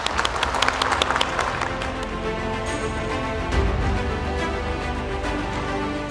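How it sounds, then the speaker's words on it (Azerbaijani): Audience applause at a live event in Azerbaijan: a lively burst of clapping in the opening second or so, then settling into a steadier crowd murmur that lasts to the end. "alqışlayaq"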